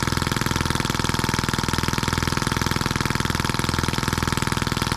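A scale model Atkinson engine, the M14, runs steadily right after its first start. It gives a fast, even mechanical chugging at close range, with a regular pulsing beat and no voices.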